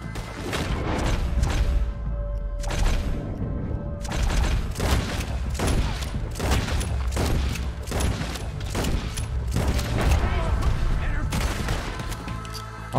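Gunfire from Red Dead Redemption 2 cracks out in rapid, repeated loud shots and booming volleys, filling the whole stretch with a dense, continuous battle din.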